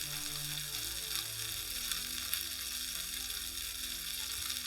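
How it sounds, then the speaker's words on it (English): Korean BBQ meat sizzles steadily on a grill, a dense, continuous frying crackle that stays close and even throughout with no talking. "Sizzle so ASMR."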